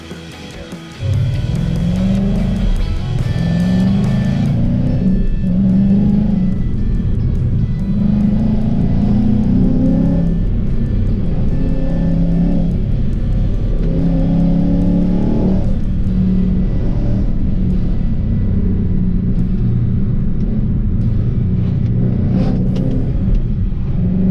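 A car drives off and accelerates through several gear changes, the engine rising and falling in pitch steadily and loudly with no talk over it.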